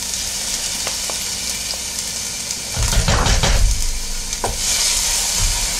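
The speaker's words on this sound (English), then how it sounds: "you mix it together and you saute it" Chopped onion and minced garlic sautéing in a pan with parsley flakes, a steady sizzle that swells louder as the mix is stirred midway, with a few sharp utensil taps.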